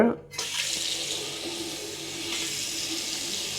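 Water gushes forcefully from an opened tap in a home kitchen or bathroom, starting suddenly and then running as a steady, loud hiss.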